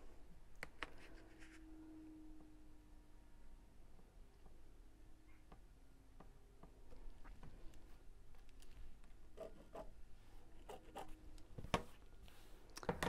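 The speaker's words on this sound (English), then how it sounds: "I'm just going to draw a line straight across." A marker or pencil scratches faintly across quilted fabric while a straight line is drawn for a gift bag, with soft intermittent scratches and taps, quiet and close.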